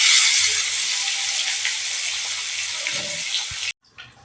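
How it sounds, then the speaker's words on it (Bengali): Fish pieces hit hot oil in a pan for fish do peyaja, a loud, bright, continuous frying hiss up close that cuts off abruptly near the end, followed by quieter rustling. "এবারে মাছগুলো তেলের মধ্যে ছেড়ে দেবো"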